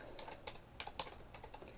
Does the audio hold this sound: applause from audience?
no